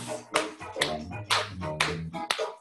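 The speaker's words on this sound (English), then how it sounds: "Now we're going to clap our hands" Preschool children clapping their hands in a live ballet class: five or six sharp, fairly even claps with a soft voice running underneath.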